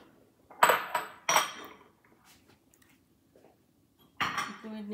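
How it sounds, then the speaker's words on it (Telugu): Ice cubes dropped into a blender jar of banana, oats and almond milk smoothie, three sharp hard clinks close together, then quiet and a final clattering rattle. "అండ్ మనకి మంచిగా కొంచెం చిల్లుగా ఉండడం కోసము కొన్ని ఐస్ క్యూబ్స్ కూడా వేసుకుంటాను."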